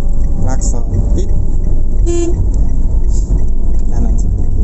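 A short, single car horn beep sounds over steady road and engine noise inside a manual car during a driving lesson on a public road, with someone talking before and after it.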